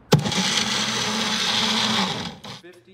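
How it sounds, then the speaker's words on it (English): A blender packed with green vegetables and spices thrashes loudly after a sharp start, a dense steady whirring roar for about two seconds before winding down and stopping. "He presses his hand down and the blender thrashes loudly."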